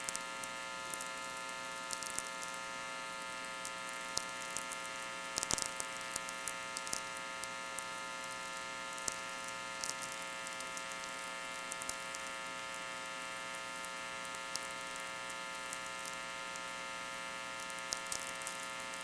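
Radio static from a VLF receiver on a loop antenna, a steady crackling hiss with an even mains hum underneath and scattered sharp clicks and pops, constant and moderately faint, with no voices.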